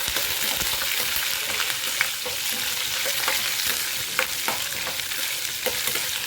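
Chana dal and urad dal sauté in hot oil in a pan, a continuous crackling sizzle with frequent small scrapes and taps as they are stirred, close and steady with no talking.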